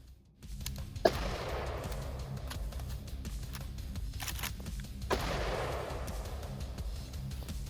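AKS-74U rifle firing outdoors, two loud sharp reports about four seconds apart, each trailing into a long rolling echo over steady background noise.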